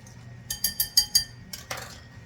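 A utensil stirring chili sauce in a pan: a quick run of five or six crisp metallic clinks, then a few softer scrapes and taps, close and clear with no talking.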